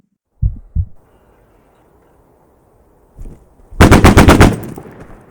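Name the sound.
gunfire in BattleBit video game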